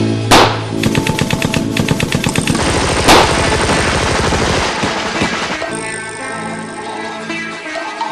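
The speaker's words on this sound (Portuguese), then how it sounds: "Em seguida, toda a tropa dispara contra o bando." Dense rapid gunfire rattles on continuously, several weapons firing at once in a loud sustained volley with a couple of sharper, heavier shots standing out.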